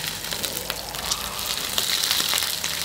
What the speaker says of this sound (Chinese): 那我们先把这个香煎的给放下去煎一下哈。锅热倒油，油热下鱼